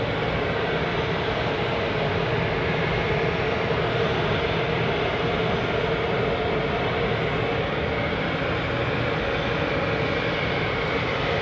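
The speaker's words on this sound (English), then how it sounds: "This EasyJet A320 you're looking at is lined up right at the start of runway 23 right" An easyJet Airbus A320 sits lined up at the start of runway 23 at Manchester Airport, its engines making a loud, continuous broadband roar that holds steady throughout with no voices.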